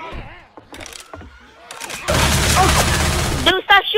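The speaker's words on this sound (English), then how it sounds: "Dude, stop shooting me, bro." Gunfire in Left 4 Dead 2 running in Garry's Mod rattles as a loud, sustained burst of rapid shots through the second half, with people talking and shouting over it.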